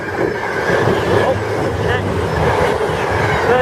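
A Virgin Voyager train runs through Milton Keynes Central, giving a steady loud rumble and rail noise close by the platform with a broad wash of sound throughout.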